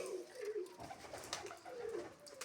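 Pigeons kept by a pigeon fancier in Hoshiarpur give soft, low, throaty coos that roll on quietly and continuously in the background.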